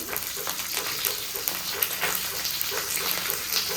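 Curry leaves, coriander, mustard seeds, cumin and chillies frying in hot oil, a steady close sizzle with rapid crackling pops and occasional stirring scrapes, continuous with no talking.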